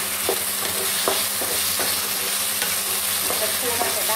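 Stink beans (sato) stir-fried in a hot pan with a steady loud sizzle, a spatula scraping and tapping the pan at irregular intervals, close up with no talking.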